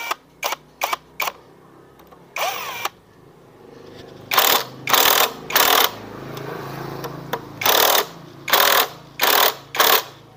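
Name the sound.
tightening scooter piston bolts with a T8 wrench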